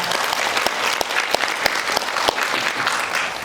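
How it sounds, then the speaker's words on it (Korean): Welcoming applause from the audience at a Korean consumer-rights forum on class-action law, a dense steady wash of many clapping hands with a few sharper individual claps standing out, loud and close, no voices. "여러분 환영의 박수 부탁드리겠습니다."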